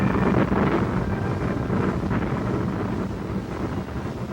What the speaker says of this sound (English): For the first time, the desert calm was shattered by the roar of jet engines.